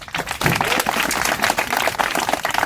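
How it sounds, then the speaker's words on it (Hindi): Spectators at a Bhopal NGO coaching centre break into loud, close, continuous applause after a short stage play, many hands clapping in a dense, lively patter with little talk. "जोरदार तालियां बजाइए।"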